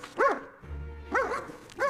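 A puppy gives three short, bright yips spaced about half a second apart, close and clear, with a low hum between them.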